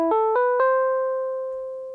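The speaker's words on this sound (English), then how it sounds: "So I replayed this with a synthesizer, and it sounds like this." A synthesizer replays a small ascending funk loop: four quick, clean notes step upward within about half a second, and the last one rings on as a long, slowly fading tone with no voices.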